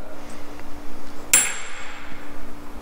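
A single sharp hammer strike drives a hardwood stair tread into a square mortise, one loud close crack in an otherwise quiet room.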